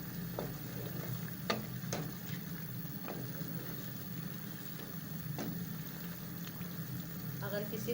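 Chicken qorma sautés over low heat in a pan, giving a steady soft sizzle and bubbling hiss with occasional light clinks of stirring, fairly quiet throughout.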